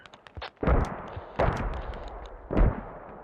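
Mortar fire in the Squad video game, three heavy booming blasts about a second apart, each with a rumbling decay, distant but loud.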